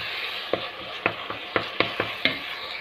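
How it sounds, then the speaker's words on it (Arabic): Two tomatoes and onion frying in oil for an octopus tagine, a soft continuous sizzle broken by a regular run of sharp stirring scrapes against the pot. "نضيفو هون هذوك حبتين ديال الطماطم ونخلوهم يتشحروا مع هذيك البصله"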